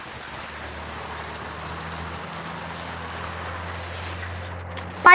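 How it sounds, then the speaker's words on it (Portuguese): Rain falling steadily outdoors, an even hiss of drops that holds constant, with a brief louder sound breaking in right at the end. "É por isso que Deus mandou a chuva"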